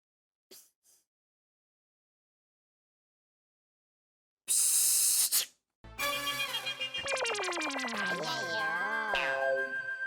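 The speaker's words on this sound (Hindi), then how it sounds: "ये कुकर की सीटी की आवाज लग रही है।" A loud hiss bursts out, then a long rising and falling whistle with many harmonics sounds steadily for several seconds after a few faint clicks.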